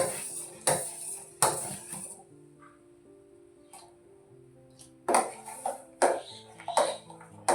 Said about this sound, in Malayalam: അപ്പോൾ അതേ കസ്റ്റാർഡ് പൗഡർ ഇതിൽ ഇട്ടിട്ടുണ്ട്. ഇത് നന്നായി ഇളക്കാം.